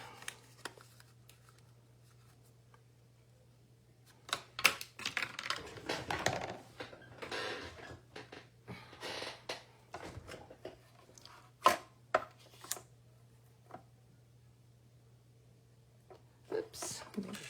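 Scissors cutting out a folded paper easel card, a series of crisp snips and rustles close by in short bursts, with quiet speech and a faint steady hum underneath.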